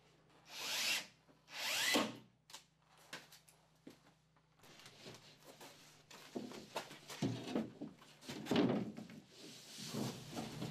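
Power drill driving phosphated screws into a bathroom wall panel, heard as two loud whirring bursts early on followed by shorter bursts, knocks and handling noise.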